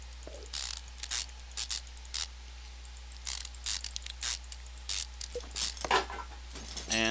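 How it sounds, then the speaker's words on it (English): A brake caliper being fitted in the video game Car Mechanic Simulator 2015: a string of short, dry mechanical clicks and ratcheting bursts at an irregular pace, each crisp and close, with no talking. "Slip on a fresh caliper."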